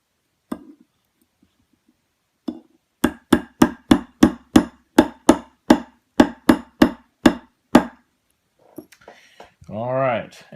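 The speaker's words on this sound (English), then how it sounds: "kind of stick that in there and kind of give it a couple of hits to get started." A hammer taps a roll pin into the extractor of a Baby Desert Eagle / Jericho 941 pistol: one or two trial taps, then about fourteen sharp, evenly spaced metallic hits in quick succession, followed by a brief voice.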